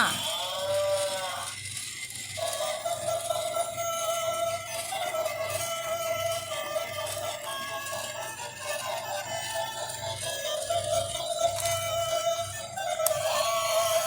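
A toy cow plays a recorded moo over continuous synthetic background music, with a sustained tonal call lasting several seconds at moderate loudness; no one speaks.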